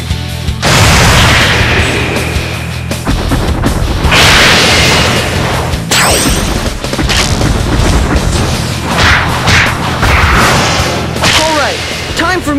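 Shooting in the Bakugan: Defenders of the Core video game, with repeated loud booming blasts and bursts, some charged, mixed with whooshing effects and game music, close and dense throughout.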